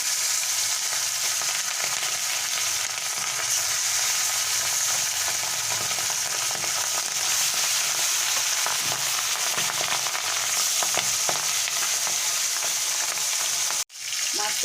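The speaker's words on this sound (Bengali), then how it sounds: "এখানে কড়াইতে তেল দিয়ে নিলাম মাছটা ভাজার জন্য এবারে একে একে মাছগুলো আমি দিয়ে দেবো" Pabda fish fry in hot oil in a kadai (wok), giving a loud, continuous sizzle with crackling spatters close by.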